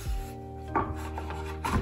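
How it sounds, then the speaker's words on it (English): A few knife strokes knock against a chopping board while fruit is chopped, with soft scraping between them, close and fairly quiet. "Let's start chopping those up."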